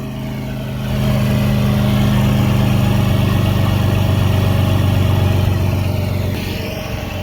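A straight-piped 4.9 straight-six in a 1995 Ford F-150, with 2.5-inch exhaust pipe, runs steadily close by, a loud deep droning rumble that swells slightly after the first second and holds, no talking.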